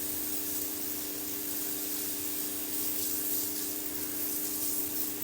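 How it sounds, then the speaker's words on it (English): A purifying shower head sprays water in a steady, even hiss with a faint mechanical hum beneath, close and continuous with no speech. "Turn the shower on."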